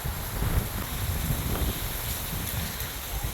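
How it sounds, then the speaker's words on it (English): Wind blows across a beach at low tide, a steady rough rush buffeting the microphone with low rumbling gusts, no talk over it. "It's a little bit windy"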